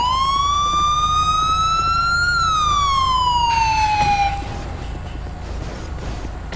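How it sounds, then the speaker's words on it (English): A loud, close police siren wails in a role-play video game, its pitch rising then falling before it cuts off, leaving a steady low rumble. "I'm going to shut my siren off"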